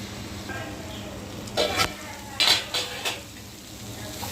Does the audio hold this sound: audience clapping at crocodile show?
no